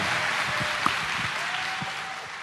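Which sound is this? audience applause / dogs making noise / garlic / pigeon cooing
audience applause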